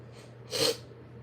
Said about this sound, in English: I just got a cough attack.